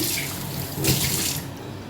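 Tap water runs steadily into a sink while soaked lentils are washed for idli batter, a close, continuous hissing splash with a brief louder surge midway and no talking.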